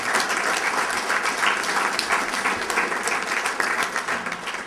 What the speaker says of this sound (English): So they all deserve a round of applause for that.